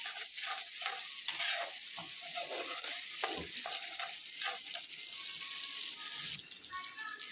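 Oil holding turmeric, cumin and salt fries softly for a fish curry base, with a faint continuous sizzle and a few stirring scrapes close by, heard at a low level without talking.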